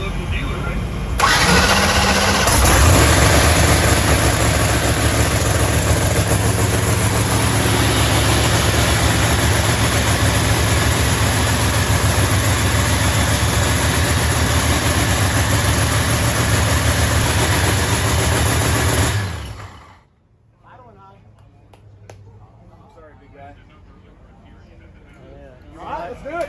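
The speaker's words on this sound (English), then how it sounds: "It's idling a little high." A drag race car at a no-prep event at Maple Grove fires up and idles high with a loud, steady, raspy rumble for about twenty seconds before cutting off, leaving quiet background with faint voices.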